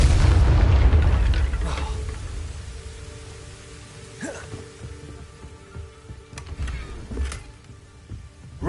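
A Confringo explosion spell in Hogwarts Legacy bursts with a heavy low boom that decays over a couple of seconds, followed by scattered crackling debris and faint later impacts.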